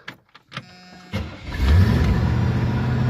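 A car running on an HHO generator cranks and starts after a few clicks, then settles into a steady, close engine idle with a low rumble.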